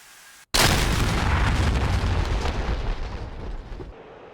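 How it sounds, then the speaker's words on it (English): Bombs striking targets in the DCS flight simulator, one sudden loud blast erupting after a short quiet gap, then a long rumbling roar that slowly fades over several seconds. "Here comes the bombs."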